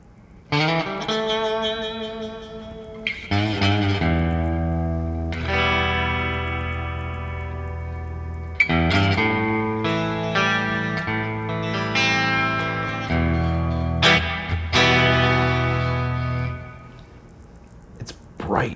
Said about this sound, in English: Let's throw a little bit of ambience on there for some actual reverb.